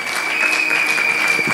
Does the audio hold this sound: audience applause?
yes